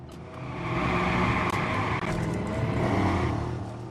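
A car races through the streets in the game Watch Dogs, its engine swelling and revving as it accelerates, holding a steady loud roar with a brief gear-shift dip, heard close with no talking over it.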